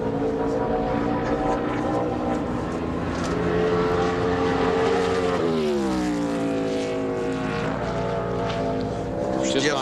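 A stock race car runs a qualifying lap at the 2003 MBNA Armed Forces Family 400, its engine roaring and then dropping pitch as it passes, with a commentator talking over it.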